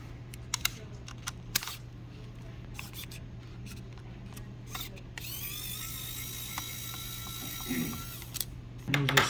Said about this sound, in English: Have to remove this screw here.